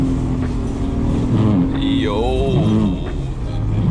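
A BMW 328ti drifting through a snowy corner, its engine droning close and steady as revs swing up and down mid-slide, with a brief shout from inside the car.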